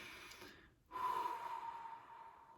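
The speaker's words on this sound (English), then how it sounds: "Take a breath and breathe out." Soft, close breathing: a quiet exhale trails off, a brief pause, then a deeper inhale with a slight nasal snort and a long, gentle breath out.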